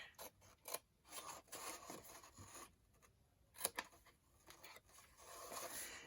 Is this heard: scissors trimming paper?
yes